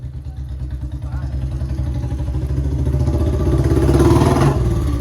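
A Royal Enfield Bullet motorcycle thumps with a steady low engine beat and revs up gradually, growing louder close by, while people talk over it.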